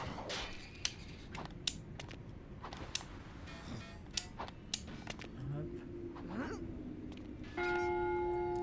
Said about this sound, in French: le marteau tape dans la cloche